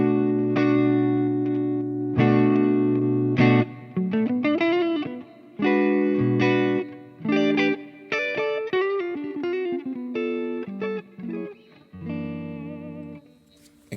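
A clean electric guitar plays a series of chords and single-note runs through a cab sim, bright and close, with light reverb and short gaps between phrases.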